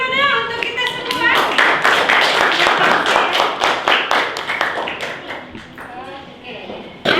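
A classroom of students claps together in a steady round of applause lasting several seconds before it fades out. The clapping is loud and close, with voices and a few shouts mixed in.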